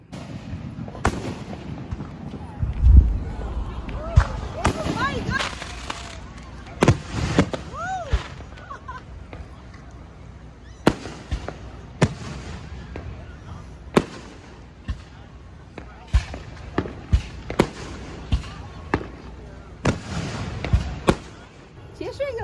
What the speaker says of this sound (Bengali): আমেরিকার যে স্বাধীনতা দিবসে ফোর্থ অফ জুলাই এটার যে ফায়ার ওয়ার্কস এটা আমরা দেখতে চাই